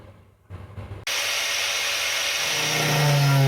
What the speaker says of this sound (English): It's really daunting taking angle grind to the inner wings just because, well, they're 60 years old.